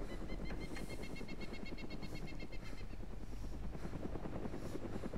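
A helicopter in the video game DayZ, near a military compound, chops steadily and continuously at moderate distance, a rhythmic thudding whir with no voices.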